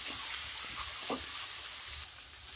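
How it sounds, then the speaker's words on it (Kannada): Beans, carrot and cabbage stir-fry on a high flame in a vegetable rice dish, a loud, bright, continuous sizzle with a soft stirring scrape, easing slightly quieter toward the end. "ಮಿಕ್ಸ್ ಮಾಡ್ಕೊಂಡು 1 ನಿಮಿಷ ಹೈ ಫ್ಲೇಮ್ ಅಲ್ಲಿ ಫ್ರೈ ಮಾಡ್ಕೊಬೇಕು ಇದನ್ನ"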